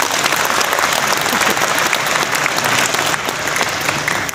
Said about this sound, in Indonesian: Tepuk tangan buat saudara semua.